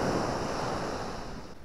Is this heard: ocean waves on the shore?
yes